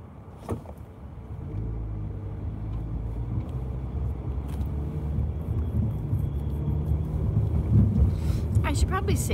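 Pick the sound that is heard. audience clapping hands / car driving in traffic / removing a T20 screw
car driving in traffic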